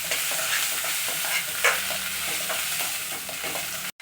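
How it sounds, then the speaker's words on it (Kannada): Onion, garlic, ginger and mint frying in hot oil for a Mandya-style mutton sambar, a steady close sizzle broken by scraping stirs with a spoon, no voices, ending in a sudden brief cut of silence. "ಇದನ್ನು ಚೆನ್ನಾಗೆಲ್ಲ ಫ್ರೈ ಮಾಡ್ಬೇಕಾಗಿ."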